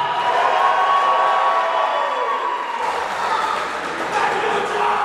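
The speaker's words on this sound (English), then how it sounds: "the big hometown crowd pop for the red corner there" A big hometown crowd cheers loudly for red corner fighter Jon Skow of Ashland, Kentucky, at a combat sports bout, a steady roar of voices sustained throughout without a break.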